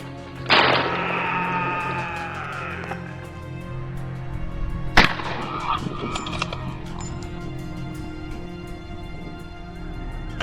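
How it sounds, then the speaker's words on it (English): Gunfire and squealing wild boars during a large-scale boar hunt by farmers: a burst of shrill, honking pig screams opens the clip, a sharp shot cracks midway, then scattered cries and rustling fade over steady background noise. "The sound of gunfire mixed with the screams of the pigs."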